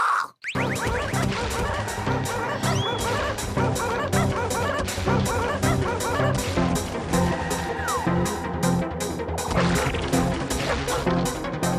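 A dog barks in a Motu Patlu cartoon scene, mixed under dense, continuous music and sound effects that run loud for the whole stretch.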